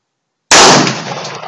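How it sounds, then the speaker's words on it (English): A single loud, close gunshot from a .45 pistol fired outdoors, a sharp blast after a moment of silence followed by a long, decaying echo. "Three more shots."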